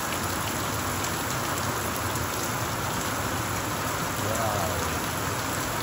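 A hail shower pelts down in Australia, a dense, steady roar of countless tiny impacts that stays loud and unbroken from start to finish, with no voices over it.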